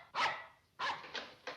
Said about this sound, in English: I'd know that unfriendly bark anywhere